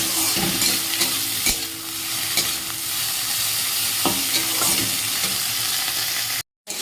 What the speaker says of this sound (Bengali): এই যে ভেন্ডি আর পেঁয়াজটা দিয়ে ভাজছি